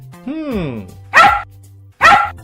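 A cartoon dog gives a rising whine, then two sharp, loud barks spaced about a second apart, close and clear.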